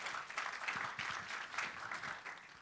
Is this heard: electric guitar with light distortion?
no